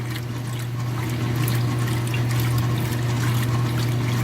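A 2017 Speed Queen washing machine rocks a load of colored shirts back and forth in water, giving a steady sloshing, trickling wash with a constant low motor hum beneath it, close and fairly loud throughout.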